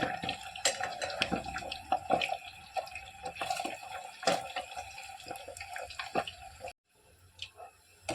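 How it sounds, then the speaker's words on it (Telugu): Chicken pieces for chicken avakaya pickle frying in hot oil in a pan, giving a close, steady sizzle with frequent sharp pops and crackles. The sizzle dips briefly to near quiet toward the end before resuming, with no voices. "ఇదిగోండి ఇలా వేగాలి చూసారు కదా చికెన్ ముక్కలు ఇలా వేగాలి"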